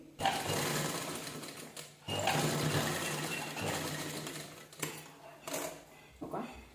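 A sewing machine stitches a press-stitch seam on an unlined princess blouse, running in long steady bursts with brief pauses between them.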